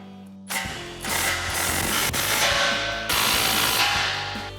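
Ratchet with a 15mm socket tightening the muffler inlet and outlet bolts on a Ford F-150 Corsa exhaust, giving a continuous close, busy clicking and metallic rattle with no talk.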